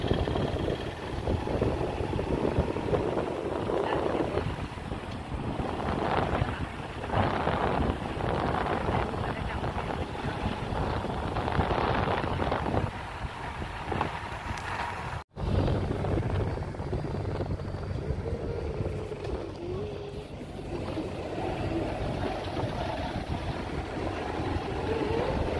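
A motorbike ride toward an army camp gate, with a steady engine drone and heavy wind buffeting the microphone throughout, a sharp knock near the middle, and a voice talking faintly under the noise.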